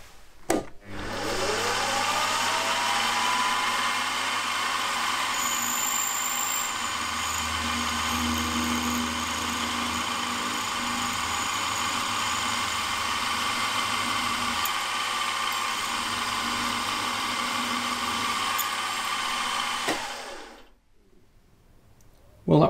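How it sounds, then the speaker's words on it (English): A machine tool drills and reams a 5/16-inch hole through a metal carburettor body, a steady whining motor drone with a rising pitch sweep at the start, running evenly for about twenty seconds before cutting off abruptly. "I'll then drill and ream through this side here, 5/16 of an inch."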